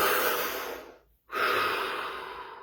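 One deep breath is drawn in and let out close to the microphone, two long airy rushes split by a brief silent pause, with no talking.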